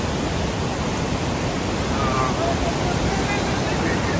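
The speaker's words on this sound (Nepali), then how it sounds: "खोला हेर्न सक्नुहुन्छ है त। यो चाहिँ खोला भयो होइन।" A mountain river on the Langtang trek in Nepal rushes in a steady, loud, unbroken roar of water that fills the whole moment, with some wind buffeting on the microphone.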